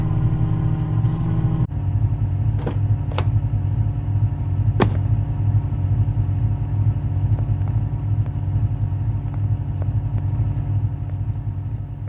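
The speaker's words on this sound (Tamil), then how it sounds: "மெஸ்ஸிக்கு நம்ம மகேந்திரா தார் கார் ஓட்ட ரொம்ப பிடிச்சிருக்குன்னு நினைக்கிறேன். செம்ம ஃபாஸ்ட்டாக போயிட்டுருக்காரு." A Mahindra Thar driven fast in a video game, a steady loud engine drone and road rumble throughout, with a brief higher tone early on and a few sharp clicks over it.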